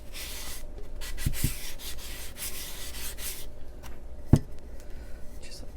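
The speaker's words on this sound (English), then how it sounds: "Then I'm going to take a very fine sanding block. This is a 220." A fine 220-grit sanding block rubs along the edge of a tumbler in soft, scratchy back-and-forth strokes, close by and fairly quiet, with a couple of light taps and a sharp knock partway through.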